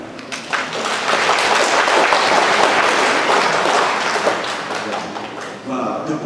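A church congregation at a Vietnamese Catholic Mass applauds in a broad, sustained wave of clapping that fills the space, swelling early, holding steady, then tapering off near the end.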